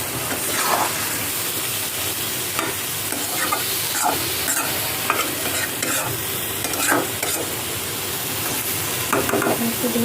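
Tengra fish and pointed gourd are sautéed in a pan, with a loud, continuous frying sizzle and repeated stirring strokes scraping through it, close up.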